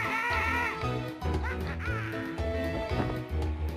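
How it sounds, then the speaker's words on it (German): Cartoonish ducks quack repeatedly in the Muppet Monster Adventure video game, loud and close, a busy flurry of squawks layered over game music. "Ich mag die Vögel nicht."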